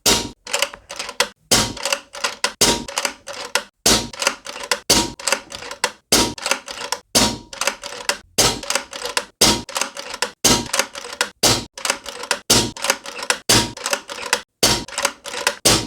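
AGT Uragan2 air rifle firing a full magazine, with sharp close shots and mechanical clacks repeating at a steady rapid rhythm, around two per second, with short quiet gaps between them.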